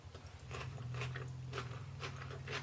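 Someone eats a fresh dill dip up close, with soft crunchy bites and chewing in an irregular rhythm over a low background hum, no speech.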